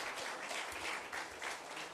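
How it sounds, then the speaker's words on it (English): Quiet, distant applause from an audience at a lighthouse tourism conclave, a brief steady patter of many hands heard from afar. "Can we please have a round of applause?"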